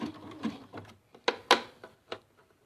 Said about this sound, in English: make sure the needle's next to the edge of the fabric, and then I'm going to keep sewing